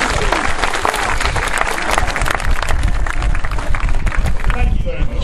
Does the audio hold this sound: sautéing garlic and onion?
no